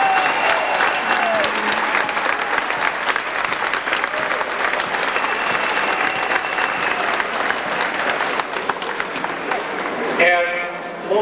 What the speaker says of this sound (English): I think we should give another round of applause